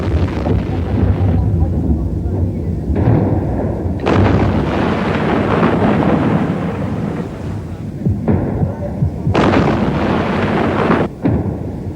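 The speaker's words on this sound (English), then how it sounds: "self-propelled guns pounded PLO positions in towns along the highway" Self-propelled artillery guns pounding positions along a highway during the 1982 Lebanon War, a dense run of heavy booming blasts that overlap and roll into one another, loud and continuous.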